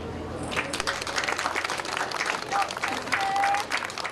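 Crowd at a shrine event applauding after a calligrapher finishes brushing a large character, steady clapping mixed with murmuring voices and a faint tonal tone in the background.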